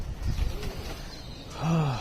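A low pigeon coo rises and falls near the end, preceded by soft rustling and faint bird sounds, fairly close.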